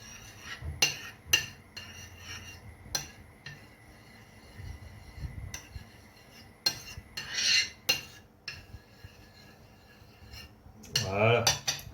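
Tuna tataki being mixed with sweet chili sauce and soy sauce, with intermittent clinks and scrapes of a utensil against a bowl and a few sharper taps between quieter pauses.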